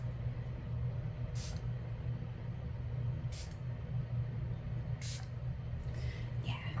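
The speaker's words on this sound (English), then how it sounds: "we'll give that a couple of sprays" Makeup setting spray spritzed in short bursts, about four quick hissing puffs spaced a second or two apart over a steady low background hum in a quiet soft-spoken setting.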